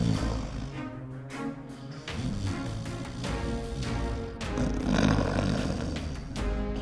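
A wolf snores loudly as a sound effect in a French fairy tale, deep rumbling growls in long drawn breaths over about seven seconds, with no speech on top.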